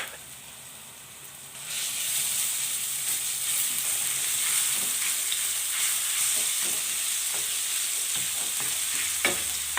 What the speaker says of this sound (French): je mets une cuillère et demie d'huile, je la fais chauffer et je mets 3 gousses d'ail. Je mélange.